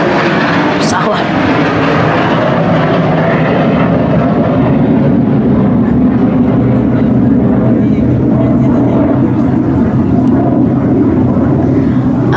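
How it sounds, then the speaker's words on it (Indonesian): An airplane passes overhead, a loud, steady roar that fills the space continuously while people talk beneath it. "Pesawat dulu lewat."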